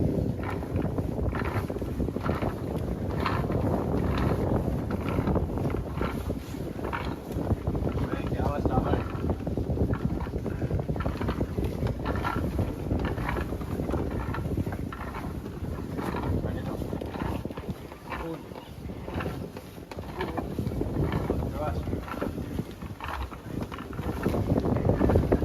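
Steady wind blows across a sailing ship at night while a sail is hoisted, a continuous close, rushing roar that buffets the microphone throughout.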